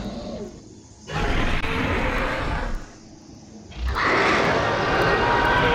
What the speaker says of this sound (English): The roaring sounds familiar.